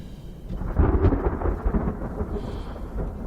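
Deep, rolling thunder rumbles loudly and continuously as a heavy rainstorm approaches at dusk, swelling and subsiding over a few seconds with no voices.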